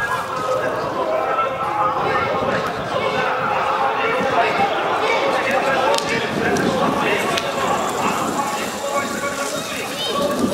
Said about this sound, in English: The sound of running horses is very powerful.